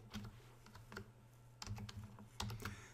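Quiet keyboard typing while entering a part code into cabinet design software, a few quick bursts of keystrokes separated by short pauses, close and soft.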